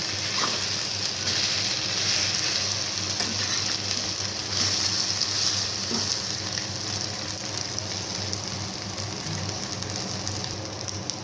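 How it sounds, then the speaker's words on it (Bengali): Egg-dipped bread slices fry in a pan of oil with a steady, dense sizzle and crackle that runs without a break, close and even in loudness, with no voices. "আমি এই পাউরুটিগুলোকে ভেজে নেব।"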